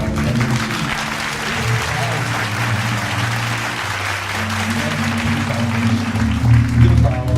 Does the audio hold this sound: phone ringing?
no